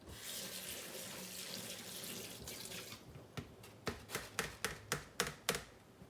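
Boiled potatoes are drained into a colander, starting with a rushing pour of water that fades, followed by a series of sharp, rhythmic clattering knocks as the pot and potatoes are shaken out.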